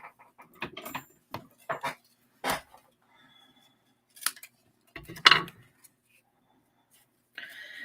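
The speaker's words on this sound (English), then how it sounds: "And then I'm just snipping it down a little." Scissors snip paper for a Stampin' Up! gatefold pop-up birthday card: a series of short, crisp cuts in irregular bursts, close and fairly quiet, with pauses between them.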